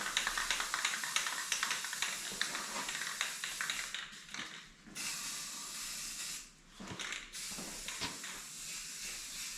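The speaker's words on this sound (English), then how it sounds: "See if I got a can of black spray paint." Black spray paint hisses from an aerosol can onto a lawn mower part in steady bursts, with two short pauses where the nozzle lets up, close and fairly loud.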